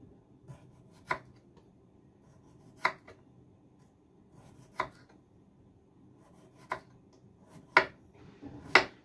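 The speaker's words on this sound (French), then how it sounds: "Alors là je vais couper des petites tranches super fines." A knife cuts a cucumber into very thin slices, giving about seven separate crisp taps against a board at uneven intervals, close and fairly quiet, with no talking.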